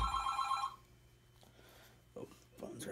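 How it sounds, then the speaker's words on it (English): A telephone bell rings clearly for under a second at the start, loud and close, then fades into a quiet room with a few faint knocks and handling sounds. "Oh, phone's ringing."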